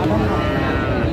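A Friesian or crossbred bull calf at a cattle market gives one long, close, loud moo.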